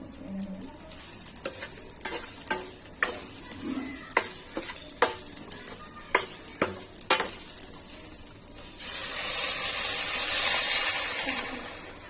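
A spoon scrapes and clicks rhythmically in a pan while making mango phirni, then a loud, hissing sizzle of frying swells up and holds for several seconds before fading.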